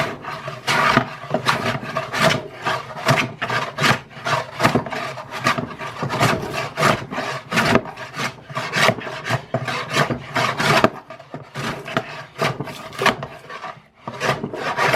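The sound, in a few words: Ohio Tool Co #306 hand plane shaving red oak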